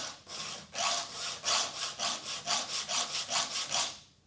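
A chainsaw file is dragged back and forth across chainsaw cutters in about a dozen steady, rasping strokes, close and clear, each stroke a gritty scrape, with no talk.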